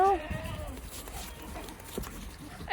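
A goat bleats once, briefly at the start, amid farmyard background noise and faint footsteps after a snowstorm.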